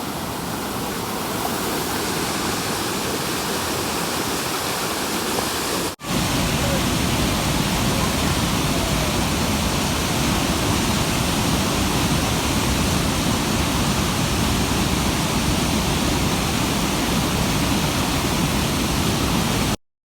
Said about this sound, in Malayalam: ഒരു രക്ഷയില്ലാത്ത വെള്ളച്ചാട്ടമാണ് ഇപ്പോൾ നമ്മൾ കാണുന്നത്.